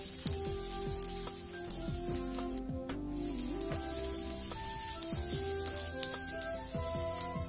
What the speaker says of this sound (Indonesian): Tumis bawang putih sama bawang bombaynya sampai layu ya.